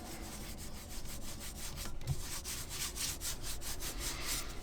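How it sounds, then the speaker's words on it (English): A gloved hand rubs filler back and forth over the top of a steering wheel, giving a steady, soft, close-up rasping scrape in repeated strokes, fairly quiet and without talk. "I'm going to take my gloved hand. I'm just going to rub it all over the top."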